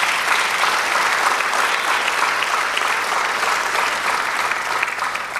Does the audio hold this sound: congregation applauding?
yes